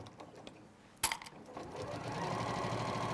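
A domestic sewing machine stitching fabric at normal stitch length, switched from a basting stitch, hums in a steady mechanical whir that starts after a brief clatter and then runs continuously at moderate volume.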